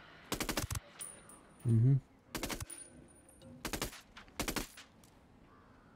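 Gunfire from the Ghost Recon Wildlands video game, with four bursts of rapid shots spread across the moment, separated by a brief low thump and quiet gaps, and a short murmured voice in between.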